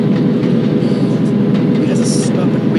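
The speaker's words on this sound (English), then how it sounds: "after a lumber train heads by, we'll have to get you turned around for a turn trip" A steam-powered lumber train rolls past on the Cajon line with a loud, continuous rumble and rhythmic rail clatter, and voices can be heard faintly underneath.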